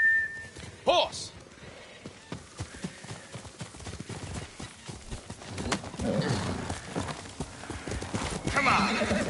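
A horse in a video game gallops with rapid clip-clop hoofbeats and gives a loud neigh near the start, under an actor's shouting voice and game music.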